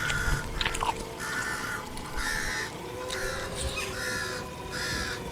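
Several crows cawing in a horror podcast sound effect, repeated harsh calls in a steady rhythm of about one per second, fairly close and alone over a rough background.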